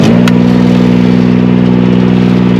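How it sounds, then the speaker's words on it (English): A Palazzani Spimerica TSJ-82 tracked spider lift's engine fires up and settles into a steady, loud, even idle, close by and heard on its own with no voices. "Or you can start it with the key down below."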